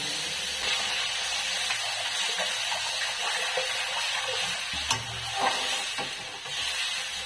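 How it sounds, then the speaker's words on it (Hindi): Roasted flour is stirred into tamarind water in a pan, giving a continuous close sizzle and watery hiss with light scraping, no voices on top. "तो इसी पानी में आटे को डाल देंगे"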